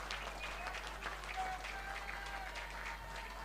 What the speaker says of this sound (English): I want us to clap for our special sponsor, Nile Special, for what it has done